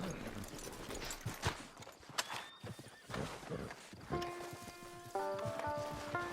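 A horse in the video game Red Dead Online whinnies and its hooves clop near a camp, loud and close, and a short musical chime rises at the end.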